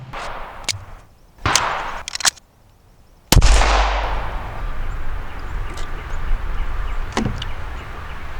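Pistol shots at an outdoor gun range bench: a few sharp, loud cracks spaced apart, one heavy report followed by a long echoing tail and distant range noise.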